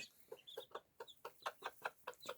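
A hen with three-day-old chicks clucks repeatedly in short, quick bursts, close by and fairly quiet, with no talking.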